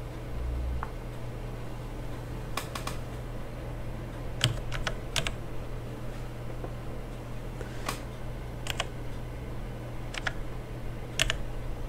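Typing on a computer keyboard, with irregular bursts of crisp key clicks, sometimes single taps and sometimes quick clusters, over a low steady hum of background noise, near and fairly quiet.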